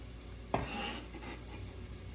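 Garlic cloves drop into a pot of cooking onions for homemade marinara with one sharp clink, then a soft sizzle and stirring that carries on at low level. No voice is heard.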